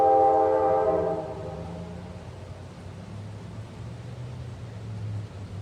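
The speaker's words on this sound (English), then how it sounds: "Oh, I love the sound of the train." A freight train's whistle gives one short, resonant chord that fades within about a second, leaving a low, distant rolling rumble of the passing train.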